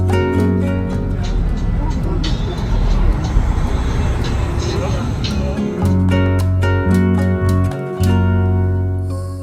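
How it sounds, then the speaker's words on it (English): Engine drone and road rumble fill the inside of a local public bus on the island of Pago Pago, American Samoa, steady and loud with tonal hum, while people talk over it throughout. "So this bus I'm riding on is actually local transportation that the local people use to get around the island"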